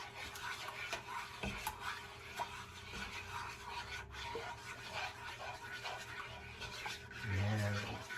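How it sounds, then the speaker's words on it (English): A wooden spoon stirs sugar into milk in a pot on the stove for fudge, giving faint scraping and clinking strokes with low background hum and a brief louder bump near the end. "Mix this sugar all into that milk"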